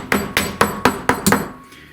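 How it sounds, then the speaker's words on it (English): Six evenly spaced taps from a rubber hammer settling material on a converted manual milling machine, each a dull thud with a short ring, landing in a steady rhythm and then stopping. "I'm just going to tap it with this rubber hammer"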